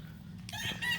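A game fowl rooster crows once, a short bright call rising out of quiet farmyard background, moderately close.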